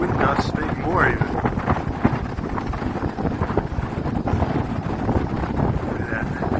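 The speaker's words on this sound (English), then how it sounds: "We've got 30-40 mile an hour wind gusts, maybe more even." Strong 30–40 mph wind gusts on the Appalachian Trail, roaring and buffeting the microphone in continuous loud blasts, with a person talking underneath.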